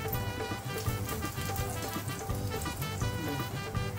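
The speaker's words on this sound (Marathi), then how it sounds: "पीठ मीठ थापलेला आहे तो तव्यामध्ये तेल गरम करून त्याच्यात टाकत आहे" Kolim pit mit, a thin hand-patted flatbread of flour and salt, fries in hot oil on a griddle, giving a steady close crackling sizzle with no talk over it.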